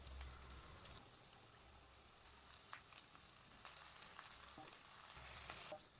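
Chilli, onion, cabbage and carrot sizzle in a hot pan as they are stir-fried, a continuous close frying hiss with scattered scraping and clinks of stirring, no talk.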